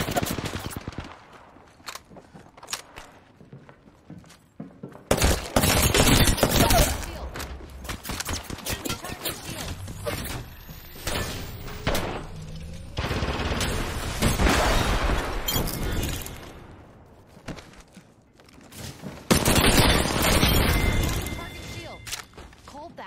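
Rapid automatic weapon fire from a Spitfire and other guns in an Apex Legends firefight, loud repeated bursts and sustained volleys with booming impacts across the whole stretch, heaviest in the middle and near the end.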